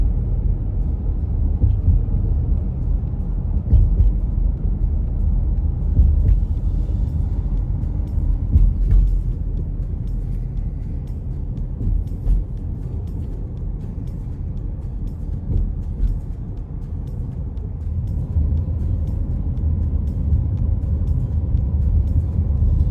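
Car traffic rumbles steadily inside the Hampton Roads Bridge Tunnel, a low, enclosed, continuous drone of engines and tires from inside a vehicle, with no talking.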